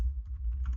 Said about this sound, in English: Ignore the typing sound you're hearing, people.